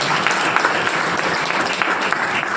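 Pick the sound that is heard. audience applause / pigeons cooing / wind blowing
audience applause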